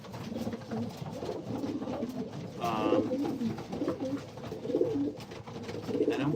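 Pigeons coo steadily in a breeding loft during breeding season, a dense overlapping murmur of low cooing from many birds close by, with a brief higher chirp partway through.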